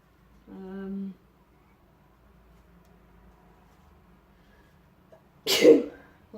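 A short voiced sound comes first, then after a quiet stretch a single sharp, loud sneeze bursts out close by.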